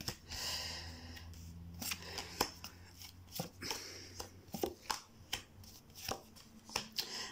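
Tarot cards drawn from a deck one after another, a series of short crisp snaps and slaps of card against card at an irregular rhythm, close and fairly quiet.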